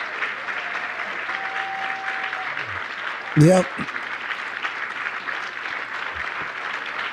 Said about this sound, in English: These people are clapping for good on you